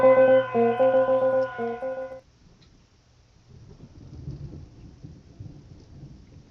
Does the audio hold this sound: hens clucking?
no